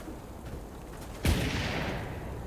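In the online shooter game Stay Out, a single loud gunshot cracks midway through, followed by a short decaying echo over quiet background ambience.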